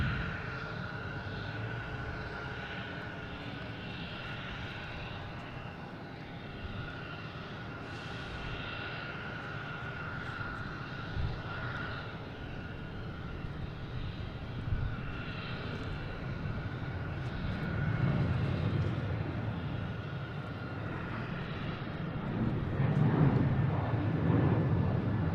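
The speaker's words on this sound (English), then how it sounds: "Oh, we got one taking off now. United Airlines heading to Newark." United Airlines jet taking off from Boston Logan for Newark, a faint, distant engine rumble with a steady hum that slowly swells louder toward the end, no one speaking.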